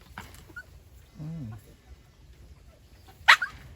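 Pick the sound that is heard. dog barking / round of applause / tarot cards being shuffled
dog barking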